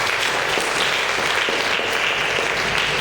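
Sustained applause from an assembled crowd at a school excellence awards ceremony in Sokone honouring a donor; dense, even clapping at steady loudness throughout.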